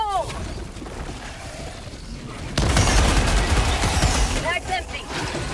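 A grenade blast in the video game Helldivers 2 booms loudly midway, a broadband burst that carries into continued gunfire and battle noise, with voices talking over the action.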